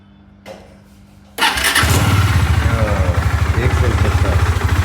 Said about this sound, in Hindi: अब देखते हैं बाइक स्टार्ट होती है कि नहीं।